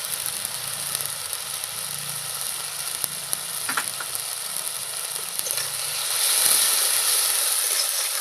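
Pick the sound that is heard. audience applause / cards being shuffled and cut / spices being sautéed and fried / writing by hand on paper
spices being sautéed and fried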